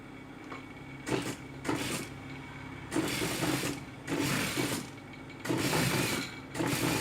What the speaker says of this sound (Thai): เราก็มาเย็บ ด้านซ้ายด้วย